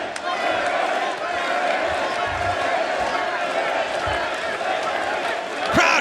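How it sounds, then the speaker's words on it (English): A wrestling arena crowd at a live match makes a steady roar of cheering and noise that fills the whole stretch, with a commentator talking over it. "Crowd coming alive here."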